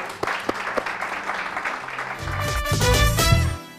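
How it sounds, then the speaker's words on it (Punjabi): An audience bursts into applause for a contestant at the Canada De Super Chef Season 3 grand finale, with scattered claps swelling into a fuller round over music before fading out. "ਇੱਕ ਵਾਰ ਜ਼ੋਰਦਾਰ ਤਾੜੀਆਂ ਰਾਹੁਲ ਰਾਏ"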